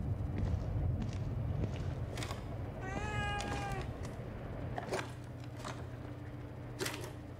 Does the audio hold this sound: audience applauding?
no